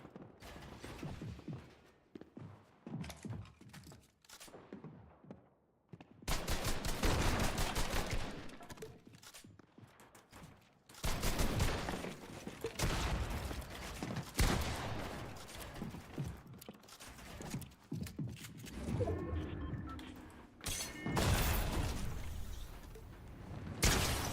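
Gunfire in Fortnite with a hunting rifle in play: repeated bursts of loud shots and rattling fusillades come in several long clusters, separated by quieter gaps with mechanical clicks and creaks.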